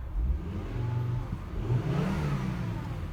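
A 2006 Volvo XC70 engine idling and blipped in a short rev, a steady mid-low hum swelling once or twice, recorded close with no one speaking.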